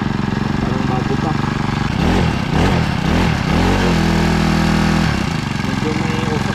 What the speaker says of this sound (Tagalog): Ayan o, ganda ang kanyang andar o,